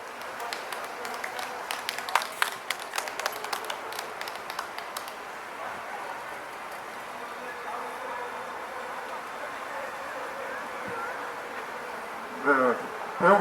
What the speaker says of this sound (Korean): 배영석 박사님께 힘찬 박수 부탁드리겠습니다